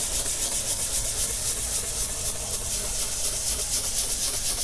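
A cotton rag rubs cleaner in circles over the crinkle-finish paint of a Hermes Rocket typewriter, a close, continuous, even scrubbing hiss with no talk over it.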